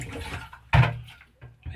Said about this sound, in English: I'll actually put a little bit just into the toilet around the seal so that it doesn't dry out while we're sitting